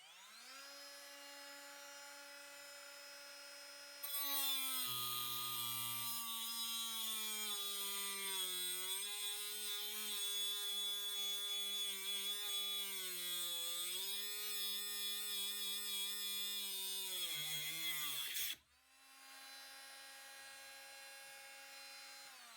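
A Parkside PWSA 12 B1 12V cordless 76 mm angle grinder spins up to a loud, steady high-pitched whine while cutting, its pitch wavering under load for about fourteen seconds before cutting off abruptly and spinning down.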